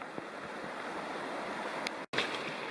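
Steady broadband rush of creek water flowing at a stream crossing on Kirkland Creek in the Upper Bald River Wilderness, continuous and fairly close, with a brief dropout near the end.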